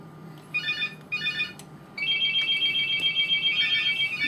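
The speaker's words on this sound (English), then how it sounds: "The bloody phone is bloody ringing again." A telephone rings in short electronic bursts, first two brief trilling pulses, then a longer continuous ringing stretch, moderately loud over a low background hum.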